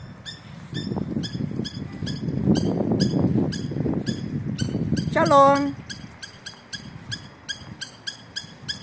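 Near a riverside road in Beersheba, a bird gives a repeated series of short, sharp chirping calls at a steady rhythm, with a brief trilling burst in the middle, partly under people talking.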